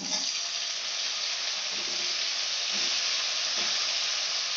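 Onion and capsicum fry for chilli chicken, giving a steady, even sizzle from the pan throughout with no voices.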